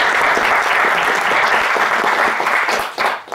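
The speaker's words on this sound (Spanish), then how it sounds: "recibimos a nuestros conferencistas con un aplauso" An audience at a university physics lecture gives the visiting speaker a welcoming round of applause, a loud, dense, continuous clapping that fades near the end.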